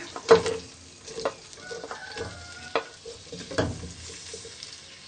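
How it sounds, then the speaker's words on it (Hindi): Onions frying in ghee for an aloo gobhi gajar matar sabzi, with a soft steady sizzle broken by several sharp stirring scrapes and clinks of a spoon against the pan, close by with no talking. "सबसे पहले हम घी डालेंगे। प्याज डालेंगे।"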